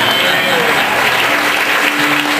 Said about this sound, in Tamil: கைதட்டுக்கோங்க